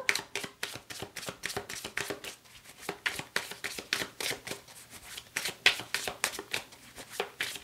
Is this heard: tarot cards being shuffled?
yes